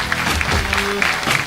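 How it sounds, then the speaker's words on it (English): Applause from a comedy club audience at the Looney Bin, a steady dense wash of clapping with a tonal hum underneath and no voices standing out. "a big round of applause"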